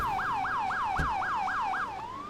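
A wailing ambulance siren from the Emergency 4 video game sweeps up and down in steady repeated cycles, about eight rises in two seconds, loud and close, then settles into a single held tone at the end.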